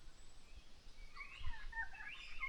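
Wild birds call at a campsite while people have lunch, a few chirping notes rising over faint outdoor ambience and moderately distant.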